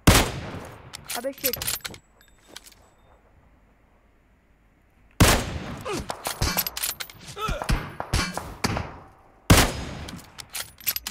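Loud bursts of automatic gunfire in PUBG Mobile come in three separate volleys, with a quiet gap between the first and second, while a player briefly exclaims.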